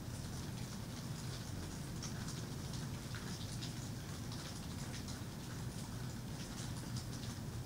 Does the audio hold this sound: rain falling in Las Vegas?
yes